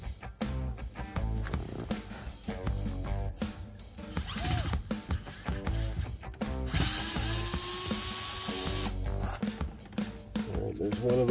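A power screwdriver backs Phillips screws out of a 2010 Prius LCD screen, with short whirring bursts and a longer steady whine near the end, close and fairly loud among handling clatter.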